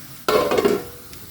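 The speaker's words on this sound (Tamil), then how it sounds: "இந்த பூண்டும் நல்லா செவந்துடும் மூடி வச்சிடலாம் நல்லா கொதி வரும்" Brinjal and garlic in a covered pan for a Kongu-style cowpea and brinjal curry give a sudden burst of sizzling and frying, loud at first and then easing, with a faint clink of the pan and no talk.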